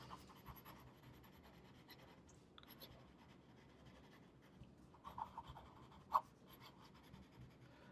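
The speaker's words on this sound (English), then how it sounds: "now to do fast writing." A Kakimori brass and steel metal dip pen nib writing fast on paper, faint quick scratchy strokes in a steady run with a few sharper taps, close and quiet, with no voices.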